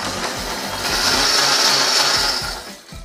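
An electric blender whirs steadily as it purees pumpkin soup with cream, a loud continuous motor drone that swells in the middle and eases off near the end.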